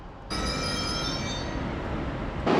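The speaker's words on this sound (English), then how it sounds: "here's my train. It's coming, I think, from the depot" French regional TER train comes into a station platform, wheels squealing with high metallic screeches over a loud rumbling roar that starts abruptly and stays close and steady; no talk.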